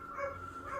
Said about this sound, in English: something starts to bark at him